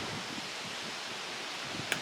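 Stiff wind blows steadily outdoors at a shooting range, a continuous broadband rush with a faint rustle through its two seconds and one brief click near the end.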